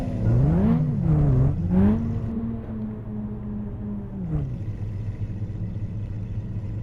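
Lamborghini Aventador engine in Roblox, a loud revving whine rising and falling several times, then settling into a steady idling drone.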